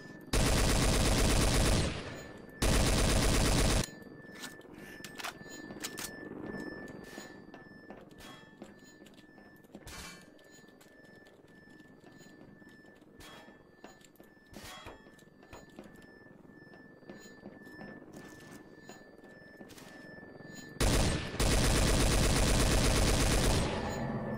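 Gunfire in Garry's Mod Trouble in Terrorist Town: loud sustained bursts of rapid automatic fire at the start and end, with sparse scattered shots and clicks in between, under a steady electronic tone.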